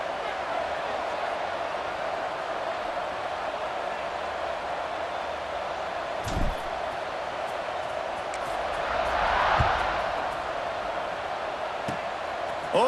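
A stadium crowd in an American football video game keeps up a broad, steady roar of cheering, swelling slightly near the end, with a couple of dull thumps along the way.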